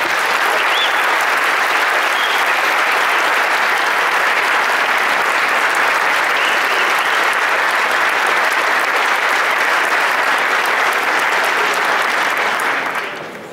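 Sustained audience applause at an Atlantic City attraction unveiling, a loud even wash of clapping from a large crowd for over thirteen seconds, cutting off at the end.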